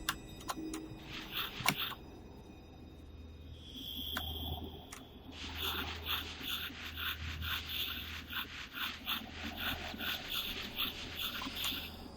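A dog in the survival video game 7 Days to Die pants and whimpers at close range, with short scratchy bursts and a steady chirping, cricket-like ambience behind it, all fairly quiet and with no talking.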